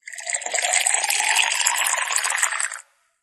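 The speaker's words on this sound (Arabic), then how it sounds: "سوف تسمع ذلك الصوت الذي نسمعه عندما نسكب ماء في كوب" A phone app notification plays the sound of water pouring into a glass. It is a steady, bright splashing trickle lasting almost three seconds and then stopping abruptly, close and clear with no voices.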